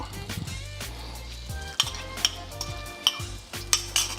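A beaten egg poured into a hot, greased pan while making chicken fried rice, with a steady low sizzle, scraping and stirring, and a few sharp clinks of a utensil against the pan.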